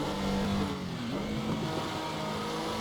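A Porsche 911 Carrera RSR 3.0 racing engine in the sim game Assetto Corsa, a steady buzzing drone held at a near-constant pitch with a slight dip and recovery, continuous throughout and without speech.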